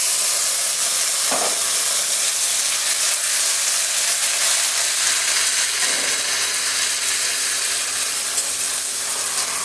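Ground spice paste hits hot oil over fried onions in a pan, giving a steady, dense sizzle and hiss that runs throughout without pause, close and fairly loud, with no talking.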